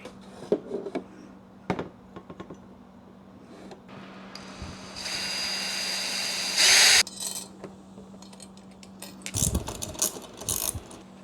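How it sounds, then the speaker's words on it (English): A power drill whines in a sustained burst partway through, drilling bolt holes for motorcycle wind fairing brackets, with clicks, knocks and handling noises of workshop tools before and after. "Then we're going to drill these holes"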